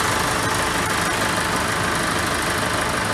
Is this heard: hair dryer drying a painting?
no